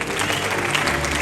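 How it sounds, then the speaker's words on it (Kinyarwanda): Guests at a church wedding clap together in dense, steady applause that fills the whole short moment. "Tubakomere amashyi."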